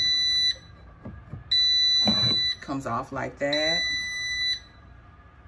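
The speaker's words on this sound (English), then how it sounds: "Excuse the beeping" A Power XL 10-quart air fryer emits long, high-pitched electronic beeps in a repeating pattern, with a person talking between and over them nearby.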